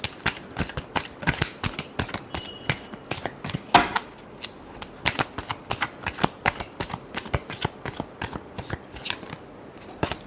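Tarot cards shuffled by hand, close and fairly loud, a rhythmic series of sharp riffles and slaps with brief pauses between bursts, no voices.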